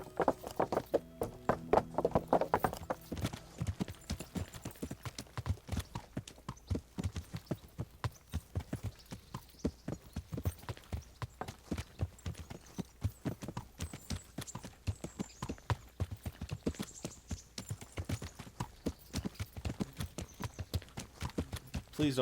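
Horse hooves clip-clopping steadily in Kingdom Come Deliverance, a long, even walking rhythm of close, crisp hoofbeats with faint background ambience.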